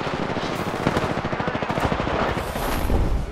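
Sustained rapid automatic gunfire in the video game Apex Legends, a dense, loud stream of shots in a fast, steady rhythm that runs without pause, with no talking.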